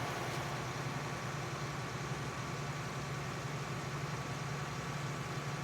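A tractor engine in Farming Simulator 19 runs with a steady, even drone and low hum throughout, no talk over it.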